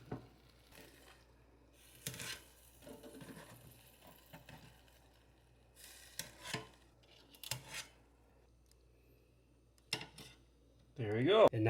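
Frozen Jennie-O turkey burgers get flipped in an air fryer basket with a few sharp clacks and scrapes of tongs and basket spread through a quiet stretch, then a louder rattle at the end.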